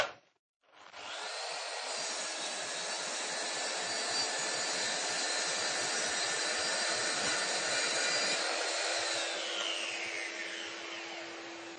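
Mafell MT55 plunge saw cutting along its guide track: the motor spins up abruptly, then a sustained high whining cut through wood runs steadily for about ten seconds before tapering off as the blade winds down.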